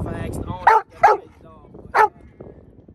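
During an outdoor training walk, a dog barks three times in quick, loud bursts on spotting another dog, over a background of ambient noise.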